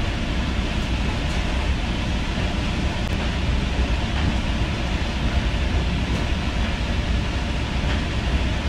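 Steady, dense rumbling noise of a moving train heard from inside, approaching Washington Union Station, a constant roar without pauses or voices.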